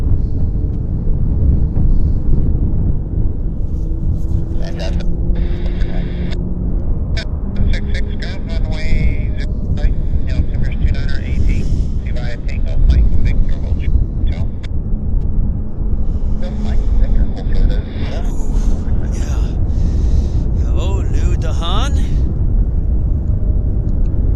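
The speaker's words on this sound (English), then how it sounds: "Engines here with Air China 777-300ER." Air China Boeing 777-300ER jet engines start up at Vancouver Airport in strong winds, a deep, steady rumble that continues under almost constant talk.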